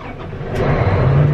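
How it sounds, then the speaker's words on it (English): A fertilizer truck arrives at a corn harvest, its engine rising loud and close into a throaty revving rumble. "Our fertilizer truck's here"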